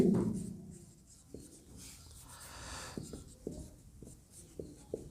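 Chalk or marker writing on a board, a run of short scratchy strokes and taps at an irregular pace, fairly faint and close, with no speech.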